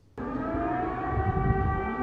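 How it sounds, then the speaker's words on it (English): A steady, wailing air raid siren in Kyiv starts abruptly and holds a sustained mechanical tone, loud and continuous with no voices. "Sirens sounded in Kyiv Monday night"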